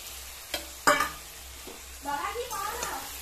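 Prawns hit a pan of oily masala with a sharp clatter and a brief hiss, followed by a softer sizzle as a voice talks over it.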